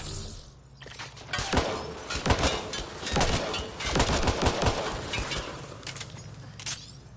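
Enemy gunfire in a Mass Effect Andromeda firefight on Havarl against Roekaar, with dense bursts of shots and sharp cracks repeating throughout, loud and close with no break.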